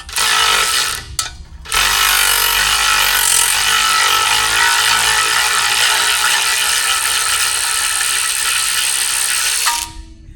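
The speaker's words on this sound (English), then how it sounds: "Let's take the nut out." A ratchet wrench clicks rapidly while removing a nut during collision repair on a Jeep Compass AWD. The close, loud ratcheting briefly pauses near the start, then runs continuously until near the end.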